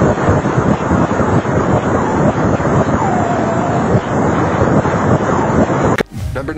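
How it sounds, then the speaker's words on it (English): Sonified X-ray data from a black hole gives a dense, roaring, wind-like rumble that holds steady at high volume and then cuts off abruptly near the end. "here is a sound of an actual black hole"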